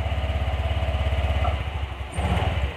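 A Honda Vario 125 scooter engine with a throttle response delay runs at a steady, rapid pulsing idle that dips briefly and then comes back without a clear rev, close and loud with no talking.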